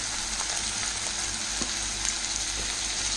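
Cream poured into a hot pan with bread and chicken sizzles and fries in a steady, soft hiss throughout, no one speaking.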